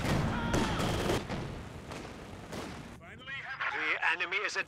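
Game battle sounds from Company of Heroes 2, with a Panther tank's gun and infantry gunfire going off in loud, dense bursts, then a stretch of busier, wavering higher sounds near the end.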